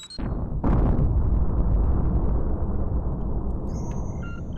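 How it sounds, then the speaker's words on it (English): A detonation in a video game erupts with a sharp, loud blast, then a long, deep rumbling roar that slowly fades, with a faint electronic tone near the end. "And then I'll take control of one of those and detonate it."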